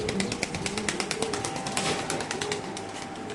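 Domestic pigeons cooing at a pigeon farm, several soft low coos repeating close by over a steady busy background of flock murmuring and faint rustling.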